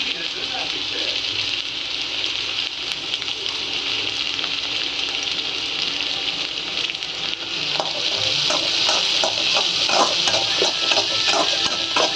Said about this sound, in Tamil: ஒரு 2 நிமிஷம் அந்த காய் வந்து நல்லா குக் ஆகணும். அது வரைக்கும் கிளறி விடுங்க.